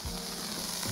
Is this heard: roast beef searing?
yes